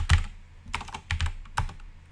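Several quick keystrokes on a computer keyboard while numbers are entered into a calculator, in short close clusters of clicks with brief pauses between them.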